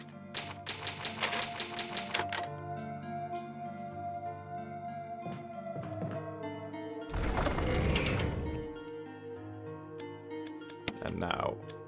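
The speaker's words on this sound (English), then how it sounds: "An old typer, you can save your progress." An old typewriter clacks as progress is saved in the video game Resident Evil REmake, a rapid run of sharp mechanical keystrokes over a steady game soundscape, followed by other in-game effects.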